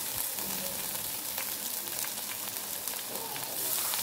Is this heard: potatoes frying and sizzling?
yes